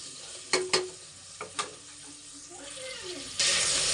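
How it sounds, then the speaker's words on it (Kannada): Cardamom and mint leaves fry in a pan with a steady sizzle, punctuated by a few sharp utensil clinks early on, and the frying grows noticeably louder and brighter near the end. "ಟೈಮಲ್ಲೇ ನಾವು ಪುದೀನ ಹಾಕಿ ಚೆನ್ನಾಗಿ ಫ್ರೈ ಮಾಡ್ಕೊಳೋದ್ರಿಂದ ಇದು ಸ್ಮೆಲ್ಲೆಲ್ಲ ನೀಟಾಗಿ ಹೋಗುತ್ತೆ"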